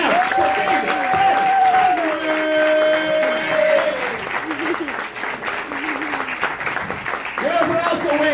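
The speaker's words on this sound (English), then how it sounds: "Start clapping right now" Comedy club audience in New York City clapping on cue, continuous applause running throughout while a voice talks loudly over it.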